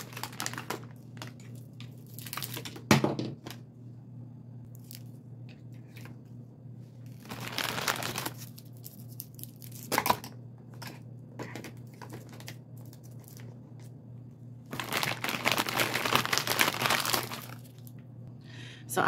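Wrapped suckers rustled and crinkled as they are tucked into a spring gift basket, with bursts of plastic crackling and light tapping between quiet stretches over a faint steady hum.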